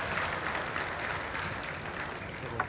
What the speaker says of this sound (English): Abnormally strong applause just because it's the second point of this game for Umemura.